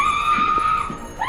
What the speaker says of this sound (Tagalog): agad nilang narinig ang isang babaeng sumisigaw